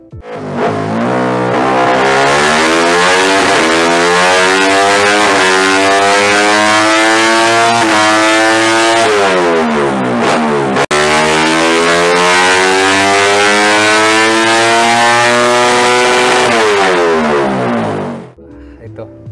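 Racing underbone motorcycles of the MP1 class revving hard, a loud, continuous high-pitched engine wail climbing and falling through gears, with a brief dip midway before fading out at the end.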